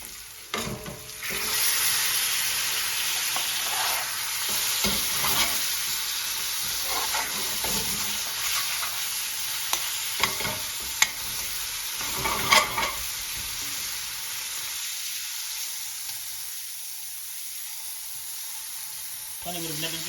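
Spices fry hard in a pan for a restaurant-style chicken tikka balti, a loud dense sizzle with intermittent stirring scrapes that eases off and quiets near the end.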